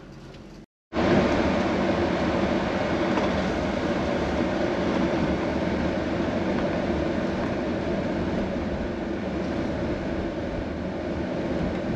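A steady, loud rumble of road and engine noise fills the cabin of a Toyota with P1155 and P1130 fault codes as it drives around, after a brief silent gap at the start.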